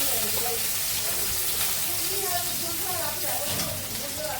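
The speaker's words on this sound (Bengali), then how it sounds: "ডাউল রান্না হয়েছে ঝোল এখন তেলে দিচ্ছে ডাউলটা" Cooked mung dal is poured into hot oil, producing a loud, continuous sizzle and bubbling up close, with a voice talking over it.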